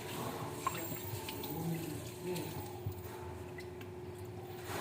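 Hands are washed under a running household tap, with water splashing steadily into the sink throughout, punctuated by a few soft squishy rubs and drips.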